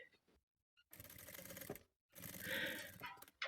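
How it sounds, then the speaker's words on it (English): A sewing machine stitching together three fabric pieces of a winter earflap cap, running in two short, close bursts of rapid whirring separated by a brief pause. "just sew all 3 pieces together"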